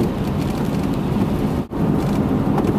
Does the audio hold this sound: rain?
yes